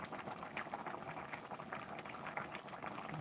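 Sweet taro-leaf curry with pork rinds, a northern Thai dish, boiling in a pot: a faint, continuous bubbling and gurgling with no voices.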